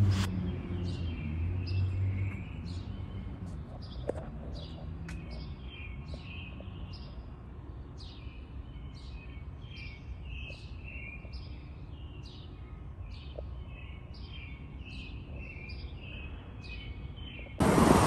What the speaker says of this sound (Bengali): পাখি ডাকছে, শুনতে খুবই ভালো লাগতেছে।